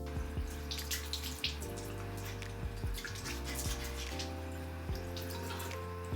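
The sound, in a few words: water splashing while washing off a face mask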